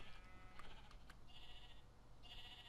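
Two short, faint bleats from a Minecraft sheep, one near the middle and one toward the end, over a steady low background hum.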